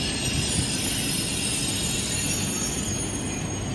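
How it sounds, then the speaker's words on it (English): A Southeastern High Speed train at a station platform gives a loud, steady rumble and wheel noise with high metallic squeal, close by and continuous, with no talk over it. "Platform 12 for the 1237 Southeastern High Speed service to Margate via Canterbury West."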